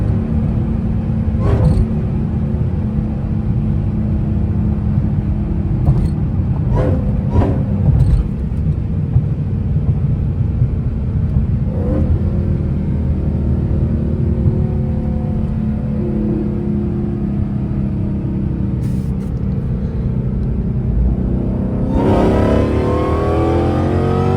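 A Dodge SRT Hellcat engine rumbles loudly and continuously at night, with sharp rev blips and rising pulls on downshifts, a strong burst of acceleration near the end, and no talk.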